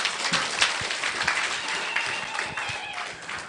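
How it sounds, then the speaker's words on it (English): A crowd of delegates at a political campaign gathering in Nandom claps, a dense, uneven patter of many hands, fairly close, with a few voices mixed in. "Clap for yourself."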